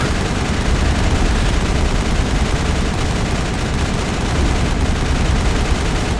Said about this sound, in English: Why stop shooting?